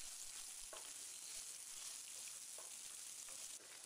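Chopped onions sizzle in hot oil for a Chettinad chicken curry: a steady, close, even hiss of frying with a few faint stirring clicks, no voices.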